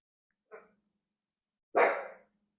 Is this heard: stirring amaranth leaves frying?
no